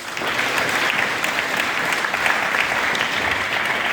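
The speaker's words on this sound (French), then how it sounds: "On nous applaudit." A crowd at a formal speech event bursts into steady, dense applause, loud and close, holding evenly for several seconds with no voices over it.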